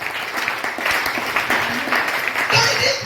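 Church congregation applauding in a steady, dense wash of clapping that holds for about three seconds, with a voice briefly audible over it near the end.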